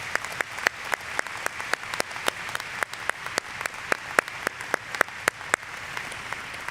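Applause for retiring faculty at a graduate commencement ceremony: steady clapping from an audience in a large hall, individual sharp claps standing out over a continuous wash, moderately loud and unbroken.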